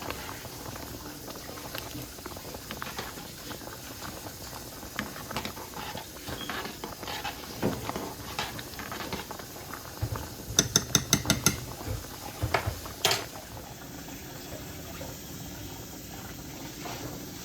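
Rice cooks in a pot of water for rice cream, a steady faint bubbling simmer throughout, briefly punctuated by a short burst of clicking stirring or utensil knocks near the middle.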